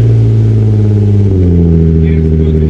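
A 2006 Infiniti G35 coupe engine runs loud and close, a steady rumbling idle whose pitch shifts and settles lower about halfway through.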